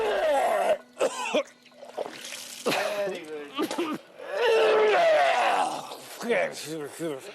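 A person vomits with repeated retching, coughing and throat-clearing sounds and liquid splashing, in several close, strained waves with short pauses between them.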